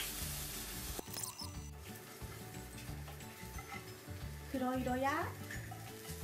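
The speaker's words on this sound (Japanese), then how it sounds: "ネギは茶色になるまで炒めます。" Green onions stir-fry in a pan for Japanese ramen, giving a steady sizzle and scraping stir throughout, with a brief spoken voice over the frying.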